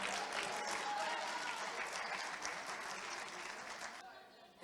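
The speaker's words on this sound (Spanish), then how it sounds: "Ese fuerte aplauso a ese rap de judo Canet." An audience at a sports gala in Canet d'en Berenguer applauds strongly after a judo-themed rap, dense clapping that holds steady and then cuts off abruptly near the end.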